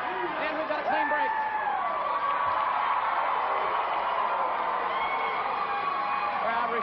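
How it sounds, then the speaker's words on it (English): A large wrestling arena crowd cheers and shouts in response to Sting during a tag-team match, a constant dense roar with people talking over it throughout. "Crowd responding to everything Sting says and does"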